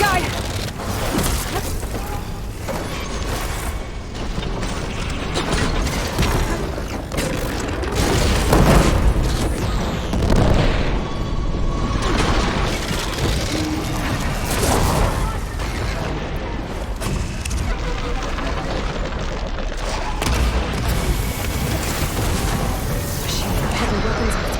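Robotic machines attack in Horizon Forbidden West, a long stretch of continuous booms, mechanical clanking and explosive bursts layered into a dense, loud battle din, with voices talking throughout.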